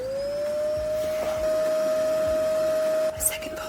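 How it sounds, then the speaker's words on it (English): A robot vacuum cleaner runs with a steady, high electronic whine and a faint motor hum, holding one even pitch throughout, with a short chirp near the end and a voice in the background. "and a robot vacuum."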